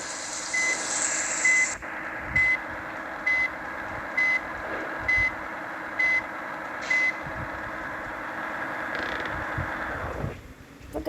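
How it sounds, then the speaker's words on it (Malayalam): A vehicle turning around sounds a series of evenly spaced reversing beeps, about eight loud pulses over a steady engine and road hum, then the beeping stops and the hum fades. "വണ്ടി ഇവിടോട്ടങ്ങ് നിർത്തി കറക്കി അങ്ങ് നിർത്താം"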